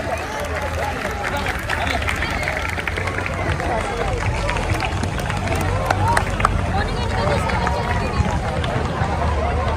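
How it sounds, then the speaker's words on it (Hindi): Schoolchildren at a Republic Day event at a school applaud their manager with a dense, steady wash of clapping that stays loud and continuous throughout, mixed with crowd chatter and babble. "clapping for manager sir"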